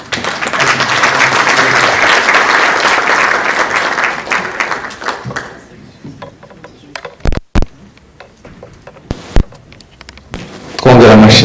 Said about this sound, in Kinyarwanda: twongera amashyi menshi.